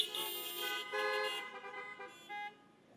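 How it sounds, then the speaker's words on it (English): Car horns honk from a crowd of vehicles at an outdoor gathering, several overlapping loud blasts at first, then fading to shorter, scattered toots. "If you think it's the vice list, give me a honk."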